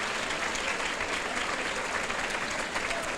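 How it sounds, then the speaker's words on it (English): Audience at a Children's Guardian Fund event applauds its board and advisory board, a steady, dense round of clapping filling the room without a break. "please give them a round of applause"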